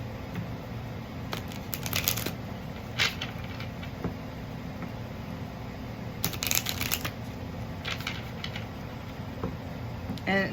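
Oracle cards being shuffled by hand, bursts of crisp riffling and flapping separated by quieter pauses, close and clear with no talking.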